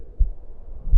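A pounding heartbeat sound effect gives two deep, muffled low thumps about three-quarters of a second apart, close and alone without voices.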